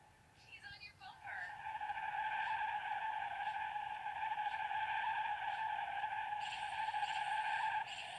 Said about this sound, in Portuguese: Ô louco, esse carro capotou.